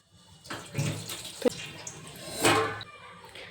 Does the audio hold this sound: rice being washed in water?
yes